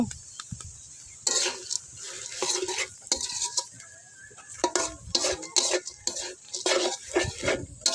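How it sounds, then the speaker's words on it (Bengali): Turmeric frying in a pot of dal at a village cookout makes a sizzle that flares in bursts as a utensil scrapes and clanks against the pot, with quieter moments between the stirring strokes. "এখন আমরা একটু হলুদ দিয়ে হলুদটা একটু বেজে নিব"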